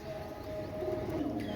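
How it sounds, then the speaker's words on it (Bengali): A pair of KTM teddy pigeons give a soft, low coo, faint and brief against a steady background hum. "এক জোড়া কেটিএম টেডি কবুতর"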